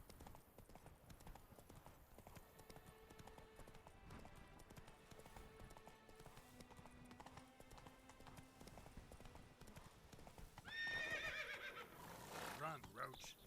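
Roach, Geralt's horse in The Witcher 3, gallops with steady clip-clopping hooves throughout, then lets out a sharp, loud neigh near the end, with game music and ambience underneath.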